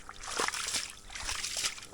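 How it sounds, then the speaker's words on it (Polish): Clear water splashing and gurgling as it pours out of a field drainage pipe, close and uneven, with soft sloshing throughout. "czyściutka woda wylatuje już z rury"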